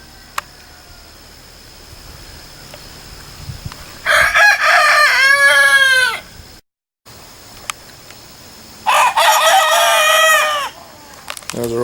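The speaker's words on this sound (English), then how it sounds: "Those are all the junior roosters learning how to cock-a-doodle-doo." Young roosters on a farm crowing in two bursts, each a strained, wavering cock-a-doodle-doo from several birds at once, close and loud, with quiet gaps of farmyard background between them.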